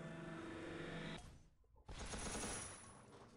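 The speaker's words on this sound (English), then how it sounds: "Disco ball rocket combo." Disco ball and rocket combo blast in the Toon Blast puzzle game, a dense loud burst of rapid crackling effects, a short near-silent gap, then a second loud sustained clattering explosion that slowly fades.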